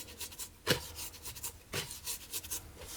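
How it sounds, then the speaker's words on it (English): Lemon zest is rubbed into granulated sugar by hand for an Italian apple crumb cake, a close gritty rasping in repeated rhythmic strokes. "I can then rub the lemon zest into the sugar"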